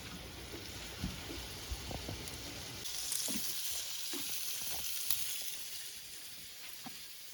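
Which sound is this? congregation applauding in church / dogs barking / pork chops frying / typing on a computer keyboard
pork chops frying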